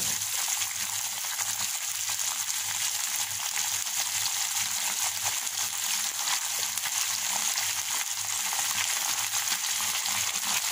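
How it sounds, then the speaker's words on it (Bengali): Spices with dried red chili powder sizzling in hot oil in a pan, a steady bright hiss of frying that runs loud and unbroken throughout with a faint low hum underneath. "একটু কষিয়ে নিতে হবে"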